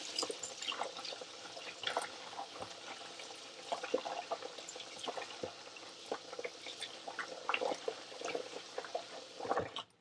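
Lukewarm water is poured into a basin and a knitted wool swatch is swished through it, quiet close splashing and dripping with irregular small sloshes throughout.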